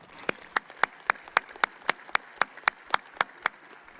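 Applause for students at a school prize-giving ceremony comes as sharp, evenly spaced claps, about fourteen in a slow, regular rhythm, loud and close with quiet gaps between them and no talking.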